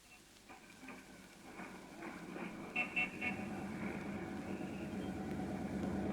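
Radio-drama city street effect of riding on top of a bus: a steady engine rumble and traffic hum build up, with a few short car-horn toots in the middle and no talking.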